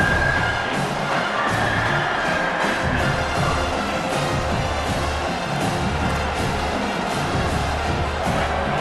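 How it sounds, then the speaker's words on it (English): A stadium crowd in a college football video game, CFB 27, roars steadily as the defense holds in the red zone, a dense, continuous wash of cheering under faint play-by-play commentary. "the crowd coming to life here, trying to help this defense down in the red zone"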